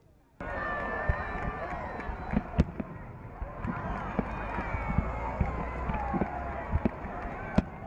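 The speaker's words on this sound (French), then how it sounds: "Le feu d'artifice est tiré." A New Year's fireworks display over a lagoon, with sharp bangs and crackling bursts scattered through a dense, continuous roar of crowd noise and voices from a large outdoor gathering.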